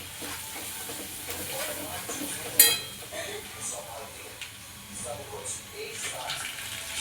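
Ginger-garlic paste sizzles in a hot pan for a Kolhapuri veg curry, a soft steady frying hiss with occasional stirring scrapes and one sharp clink, under intermittent background sounds.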